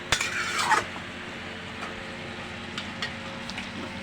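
A spoon stirs rohu fish and cucumber curry in a pan, with a burst of close scraping and clinking at the start, then a soft, steady sizzle and occasional light stirring taps.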